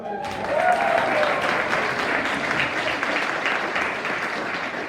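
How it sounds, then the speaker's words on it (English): An audience claps for an award recipient at a youth sports club end-of-season award ceremony, with steady applause throughout and a faint voice underneath. "Go give a clap."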